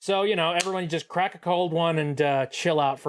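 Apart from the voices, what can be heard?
None of the usual background noises is heard.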